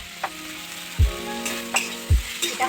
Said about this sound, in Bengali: এবারে ততক্ষণ পর্যন্ত ভাজতে হবে যতক্ষণ না টমেটোটা থেকে জলটা রিলিজ করছে